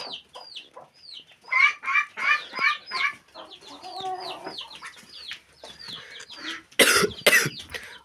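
Chickens cluck and squawk in a rapid, overlapping series close by, with a louder burst of flapping or scuffling near the end.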